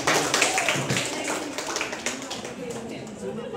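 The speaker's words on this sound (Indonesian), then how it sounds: "Terima kasih dan tepuk tangan juga untuk Bapak dan Ibu guru pembimbing kalian." Clapping from a classroom group for a student project presentation and the supervising teachers, brief scattered claps mixed with a teacher's voice talking over them.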